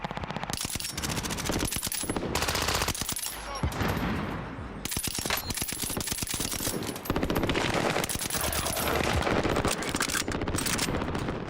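A hard-to-control gun fires in a video game in long rapid automatic bursts of gunfire, loud and close. Short pauses separate the bursts.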